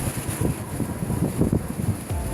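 Strong storm wind in January 2018 blowing through tall trees along a street in Gorinchem, a loud gusty roar that swells and buffets the microphone in uneven surges.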